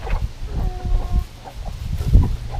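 Chickens being moved together into one flock cluck and squabble as they sort out their pecking order, a busy run of short calls over low outdoor rumble with no talking.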